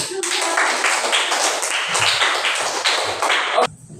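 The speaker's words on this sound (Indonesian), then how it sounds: "Oke, tepuk tangan." A class group clapping hands together during a classroom warm-up, a dense burst of many overlapping claps lasting several seconds before stopping abruptly.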